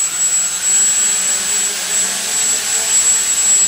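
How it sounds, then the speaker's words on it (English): AeroQuad quadcopter motors armed and throttled up to about 40 percent, giving a steady, loud whir with a high whine held throughout and no talk over it. "So now I'm going to arm the motors on the controller here and increase the throttle to about"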